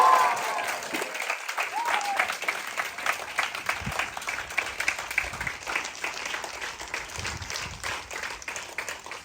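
A large audience applauds steadily for several seconds, dense clapping throughout with a brief louder start, honouring parents at a gathering in a hall.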